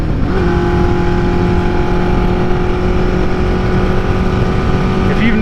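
A 1974 Honda CB400F four-cylinder engine drones steadily while riding, a loud, even hum with a constant pitch and wind rush, held for several seconds.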